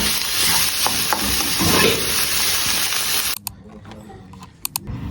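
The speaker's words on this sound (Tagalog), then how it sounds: "Tapos kauwi namin, magluluto kaming sinangag." Sinangag fried rice sizzling and being stirred in a pan, a steady broadband hiss for about three seconds that cuts off abruptly, followed by quieter clinks and a few sharp taps.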